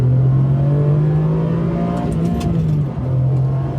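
A modern Ferrari engine pulls hard under acceleration, a loud sustained drone that climbs steadily in pitch, dips briefly, then carries on.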